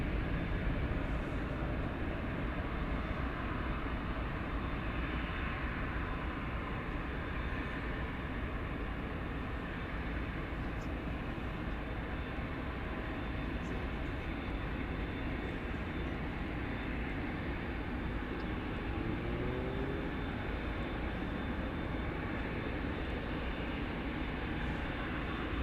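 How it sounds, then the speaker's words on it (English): An American Airlines Airbus A321 at DFW Airport, a steady broadband jet roar that holds evenly loud for the whole stretch with no pause, like an airliner rolling or climbing nearby. "An Airbus A321."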